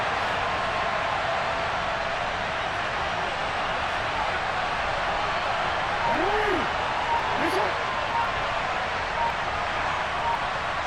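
A stadium crowd roars steadily throughout an NFL Patriots game ahead of a big third down, a dense, sustained wash of cheering with brief whistle-like tones rising near the middle.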